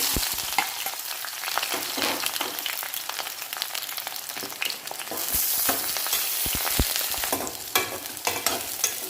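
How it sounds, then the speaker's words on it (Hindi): Eggplant frying in hot mustard oil in a pan gives a continuous crackling sizzle, close and steady, with occasional light clicks and taps from a utensil. "तेल गर्म हो गया है। अब हम इसमें बैगन को डाल देंगे।"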